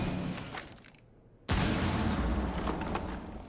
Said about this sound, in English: the explosion is going to sound much quieter